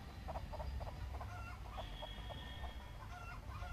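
Video game chickens cluck in quick repeated bursts over a steady low rumble, fairly quiet and continuous, with no one speaking.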